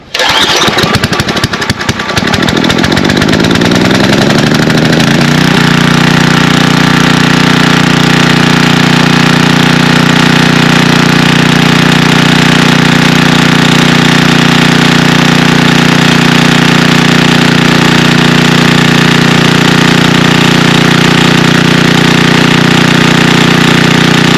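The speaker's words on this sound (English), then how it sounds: "Got the generator turned on, got the choke set. Let's see if it fires up." A Coleman 5000ER portable generator cranks with a few rough pulls, then catches and settles into a loud, steady engine drone that runs continuously and close by with no talking.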